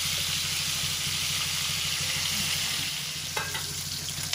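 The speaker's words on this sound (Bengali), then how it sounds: "আর এখন রুই মাছগুলো ভালোভাবে ফ্রাই করে নিচ্ছে" Pieces of rohu fish frying in a pan, a dense continuous sizzle and hiss close by and loud throughout, with a brief spatter or stir near the end and no talking.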